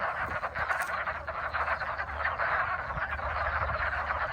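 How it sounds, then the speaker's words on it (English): A dense chorus of hundreds of frogs croaking continuously in a pond, overlapping calls forming a steady throbbing drone with no voices. "there's hundreds of frogs in this pond"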